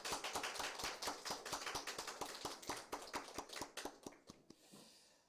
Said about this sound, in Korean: 하나님께 감사의 박수를 다시 한번 하나님께 올려드리시겠습니다